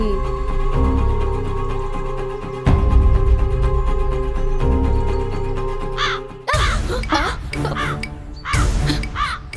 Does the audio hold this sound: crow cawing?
yes